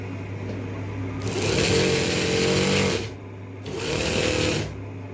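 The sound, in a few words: sewing machine stitching a kameez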